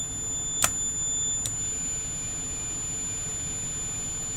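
Trim tab warning buzzer on a 2020 Sunseeker 2400Q boat gives a thin, steady high-pitched tone over a low hum, with two short clicks early on.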